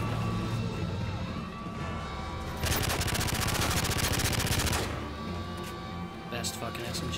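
Rapid sustained bursts of P90 submachine gun fire in the video game Call of Duty: Modern Warfare 3, a dense rattling volley over a couple of seconds amid background battle noise, with someone talking throughout.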